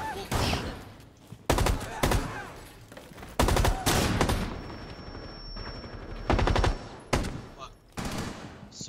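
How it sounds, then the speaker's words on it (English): Light machine gun fire in a tactical shooter game, heard as several loud, sustained bursts of rapid shots separated by brief gaps, with quieter game sounds between them. "So hard to shoot with this LMG"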